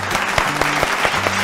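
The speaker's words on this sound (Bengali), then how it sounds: "জোরে হাততালি শর্মিষ্ঠার জন্য।" Loud audience applause at a Bengali family game show, a steady wash of many hands clapping with brief musical tones underneath, continuing throughout without speech.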